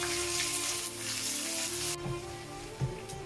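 Ginger garlic paste sizzles and fries steadily in hot oil in a pan while chicken keema is being cooked. The sizzle is close and continuous, with a brief stirring sound near the end and no talking.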